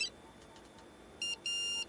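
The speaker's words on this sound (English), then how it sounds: "It's my new mobile phone." A new mobile phone beeps in two bursts, a short electronic tone followed by a longer steady one, loud and close after a quiet moment in a broadcast studio.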